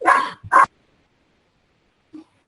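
Dogs give two sharp, close barks in quick succession, followed by silence and then a faint short yip.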